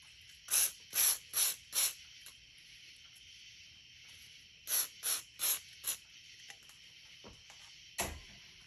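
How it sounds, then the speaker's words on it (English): WD-40 sprayed onto a strip of sandpaper while cleaning an old 1970s Tecumseh HS40 crankshaft journal: four short hissing bursts, a pause, then four more, all close and sharp, ending with a brief clunk. "And just apply some WD-40."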